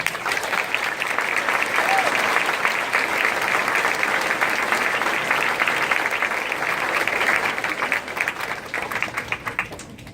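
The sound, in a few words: audience applause at graduation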